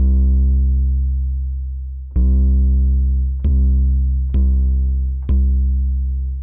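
A deep 808 bass from the Polytone synthesizer plays alone: one long booming note, then four punchy, closely spaced hits with bright clicky attacks, each decaying into a low sustained tone.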